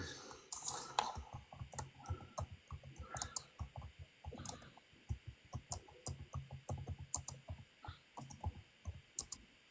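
Rapid, irregular clicking of computer keys in steady bursts, close and fairly clear over a low background hum, with no talking.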